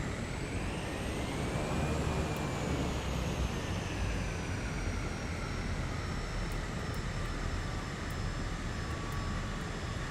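A Cessna's propeller engine in the Neofly flight simulator game throttles up on runway 24, a steady loud droning roar with rising engine tones that holds for the whole stretch, close and continuous, with no talking.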